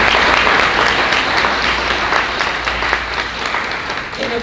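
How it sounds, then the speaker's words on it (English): A crowd at a commencement ceremony applauds steadily, dense clapping filling the room at a fairly loud level and tapering slightly toward the end. "Please give them a round of applause."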